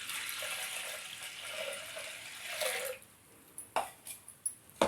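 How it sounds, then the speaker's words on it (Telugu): Water pours steadily from a small vessel onto toor dal in a pot for three seconds, then stops, followed by a few sharp drips and light clinks of the pot. "దీంట్లో ఇప్పుడు 1 లోటా వాటర్ పోసుకుంటున్నానండి."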